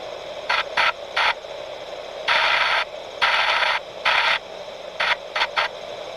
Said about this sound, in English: SOS is 3 shorts, 3 longs, 3 shorts.